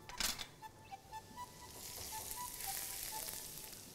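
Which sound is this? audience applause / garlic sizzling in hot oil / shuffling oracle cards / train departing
garlic sizzling in hot oil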